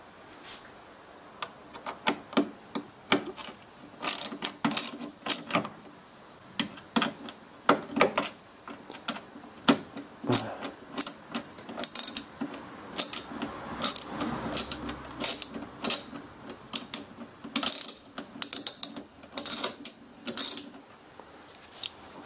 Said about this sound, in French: à l'aide d'une douille de... c'est du T15 normalement. On va desserrer ça.